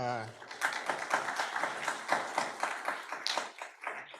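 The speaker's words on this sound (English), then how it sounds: "It's nice to get applause before we do anything" Applause from a symposium audience on intellectual property and music, a steady patter of many hands clapping fairly close, with a voice briefly heard at the start.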